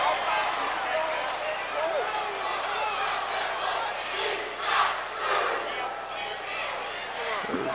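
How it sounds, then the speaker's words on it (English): A basketball crowd chants and cheers a rhythmic old-style cheer, a loud, swelling roar of many voices with a commentator talking over it. "Dredging up the old cheer from the 60s, Marty."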